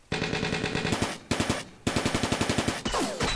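Bursts of automatic gunfire from a Vietnam War strategy video game: several rapid, evenly spaced volleys of loud sharp shots separated by brief pauses, ending in a longer rattling burst.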